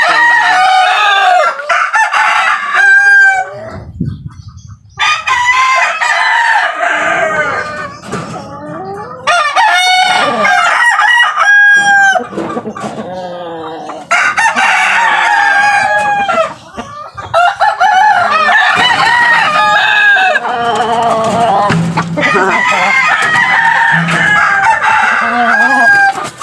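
A Talisay rooster crows loudly and close several times and clucks between crows, with brief pauses and some voice faintly in the background.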